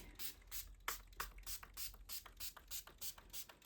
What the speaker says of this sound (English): It seems to be spraying quite nicely.